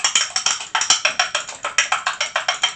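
An egg being beaten for a quiche, a fork or whisk clicking rapidly against the bowl in a steady, even rhythm of about six strokes a second, close and bright.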